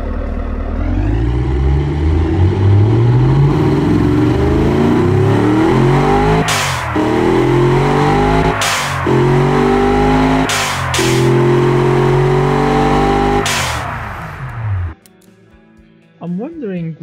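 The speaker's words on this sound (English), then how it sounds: "Yes, the engine is knocking a little bit." A poorly built car engine in the BeamNG driving game, making heavy torque at idle and knocking slightly, revs up steadily through the gears with loud rising tones, then cuts off abruptly near the end, and someone talks over it.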